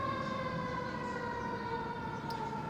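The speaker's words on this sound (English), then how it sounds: "I do believe I hear the call of an ambulance." An ambulance siren wails steadily at a distance, a sustained tonal call holding throughout against low background rumble, heard outdoors at a Civil War reenactment at Fort Stevens.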